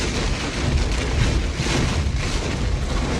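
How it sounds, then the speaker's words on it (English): Heavy rain pounds a car driving on a Sydney motorway slip road in near-whiteout conditions, a dense, loud, continuous roar and drumming with rumbling low-end road and wind noise. "They said rain, but this is ridiculous."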